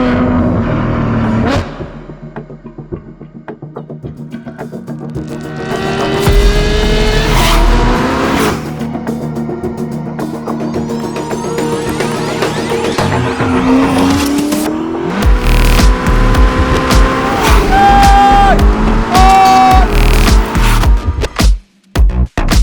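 A 1000 hp Novitec Ferrari SF90 supercar driving on South African streets, loud engine revving and roaring through gear changes, with tire squeal and rising acceleration close by.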